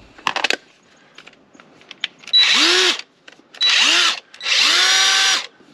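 A Ryobi half-inch impact driver runs in three bursts of loud, high-pitched whirring and hammering, each lasting close to a second, after a few sharp clicks and handling knocks at the start.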